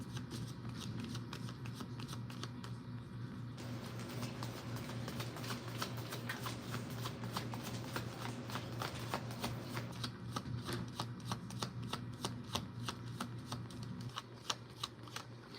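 Tarot cards being shuffled by hand in a steady run of crisp riffling flicks, close and continuous for the whole stretch, with no talking.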